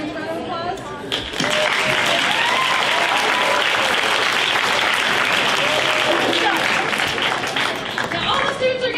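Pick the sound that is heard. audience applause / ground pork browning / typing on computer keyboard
audience applause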